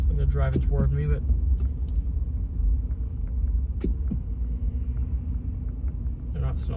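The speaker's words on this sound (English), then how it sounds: "Trucks here. So they're driving toward me" Trucks driving toward the listener on a snow-compacted road in Homewood during 2025 blizzard conditions, a low steady engine rumble and tire roar close by, with someone talking over it at the start and end.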